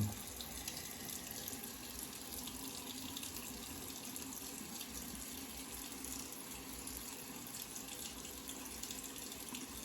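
Tap water runs steadily into a bathroom sink while hands are dampened before shaving, a constant close hiss and splash with no break for the whole stretch.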